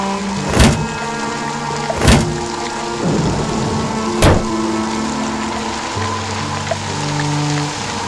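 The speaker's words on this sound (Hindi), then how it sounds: "आसमान में तेज बिजली कड़की और बारिश जो थोड़ी थमी थी, एकाएक फिर झमाझम बरसने लगी।" Heavy rain pours steadily in a thunderstorm, broken by three sharp, loud thunder cracks in the first half, with the downpour continuing as a constant wash underneath.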